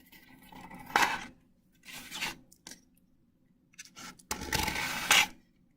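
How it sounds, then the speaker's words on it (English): A straight edge scrapes shaving cream off marbling paper in three separate raspy, wet strokes, close and moderately loud, with quiet gaps between passes. "Use your straight edge to scrape all the shaving cream off your paper."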